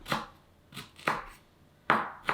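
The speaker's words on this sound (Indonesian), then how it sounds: "Ini kunyitnya saya potong-potong aja supaya mempermudah kerja blender ya." A knife chops turmeric and ginger on a cutting board for a rendang spice paste: about six crisp, close taps in loose pairs, each sharp and short, with quiet gaps between.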